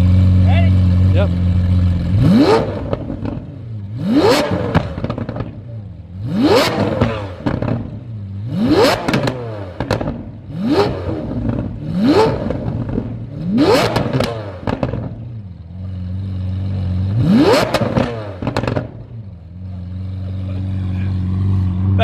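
A car fitted with a new exhaust, compared with a naturally aspirated V12, is revved repeatedly, about eight rising blips that climb sharply and fall back to idle, loud and close, with a low idle rumble between.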